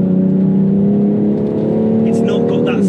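A BMW X3 M performance SUV's engine pulls hard, a loud, steady drone that rises in pitch near the end, with someone talking over it from inside the car.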